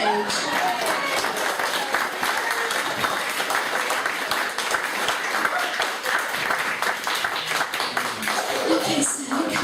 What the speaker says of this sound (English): Please give him a round of applause as he joins me on the stage.